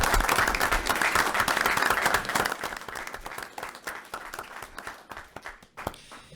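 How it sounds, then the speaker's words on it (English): An audience at a council meeting claps for a family, dense applause that starts full and thins into scattered individual claps as it fades out. "So I think they deserve a round of applause for everything they've done."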